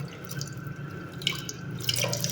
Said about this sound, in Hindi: हम यहीं पे धोते हैं अपने बर्तन